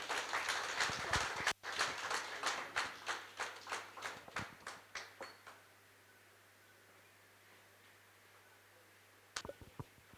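An audience at a book launch for Rajiv Nigam claps in a burst of applause that starts strong, then thins and fades over several seconds, followed by quiet and a few scattered late claps.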